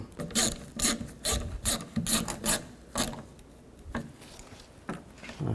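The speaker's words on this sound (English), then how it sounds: "Now you can put those 3 screws in, get them all started first, and then tighten them down." Three screws are started and tightened on a 2007-2016 GMC Acadia gas door. Close, intermittent bursts of scraping and ratcheting turns come in uneven clusters, then thin out, with no speech.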